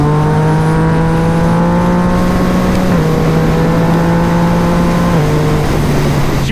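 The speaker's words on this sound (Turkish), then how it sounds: "Böyle bir egzozu var bu arada." A Yamaha MT-09 motorcycle exhaust rumbles close and loud with a steady engine drone, its pitch stepping down slightly twice as the revs change.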